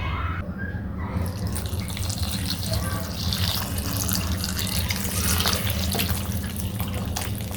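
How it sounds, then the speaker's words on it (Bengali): Water pours from a tap into a bowl to soak soya chunks, a steady close gushing splash running throughout with a brief change in tone near the start. "জলে আমি সয়াবিন বড়িগুলোকে ভিজিয়ে দেব"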